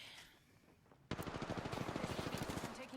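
Gunfire in Apex Legends Arenas: after a quieter second, a rapid automatic burst erupts and runs as a dense, evenly spaced string of loud shots until near the end.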